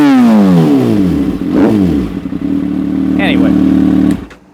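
A 2015 Kawasaki ZX6R Ninja with an M4 GP shorty slip-on exhaust revs hard nearby, its pitch sweeping up and down, then settling into a steady loud drone before cutting off abruptly.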